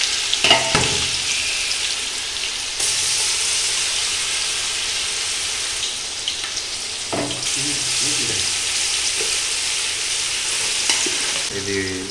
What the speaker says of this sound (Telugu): ఇది తాలింపులు వేస్తుంటే చూస్తుంటే మంచి వాసన వస్తుంది